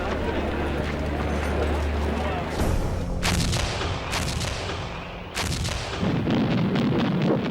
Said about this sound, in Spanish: Los británicos se defendieron de este ataque con cañones antiaéreos, haciendo blanco en algunas bombas volantes y derribándolas.